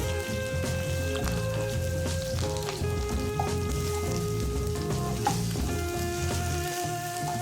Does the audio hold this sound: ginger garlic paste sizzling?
yes